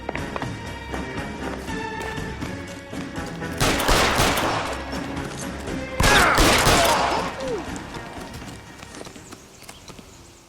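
Gunfire in the LA Noire video game, with two loud bursts of shots cutting through a steady background of music and ambient noise, each burst lasting around a second.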